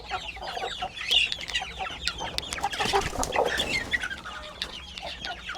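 Chickens clucking and chirping inside a coop, several birds calling continuously at once, busy and fairly close, with sharp higher peeps scattered through the steady clucking and no talk.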